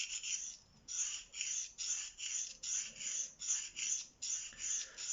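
A Ka-Bar Dozier knife is hand-sharpened on Venev stones in a close, quiet, regular rhythm of about eight back-and-forth rasping strokes with no talking.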